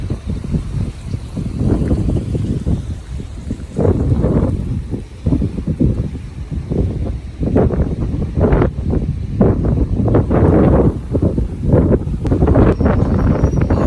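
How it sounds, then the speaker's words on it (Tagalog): Heavy, rumbling surf crashing repeatedly with wind buffeting the microphone, loud and close, no voices. "Grabe, lakas ng alon."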